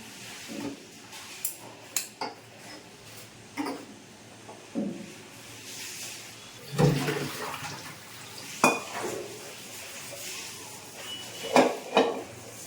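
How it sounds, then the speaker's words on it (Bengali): A wok being scrubbed with steel wool and soap at a kitchen sink, with scattered scraping and clanking bursts, splashes of running water and occasional knocks of metal against the basin, close and fairly quiet. "কড়াটা সেখানে সাবান দিয়ে মেজে রেখে দিচ্ছি আগে একটু স্টিল উল দিয়ে কষে নিলাম"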